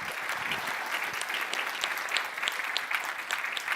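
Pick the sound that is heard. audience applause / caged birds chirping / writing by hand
audience applause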